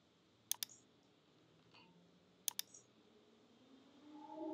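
Two pairs of sharp, close computer mouse clicks, about two seconds apart, in a quiet room while setting up a business email domain record.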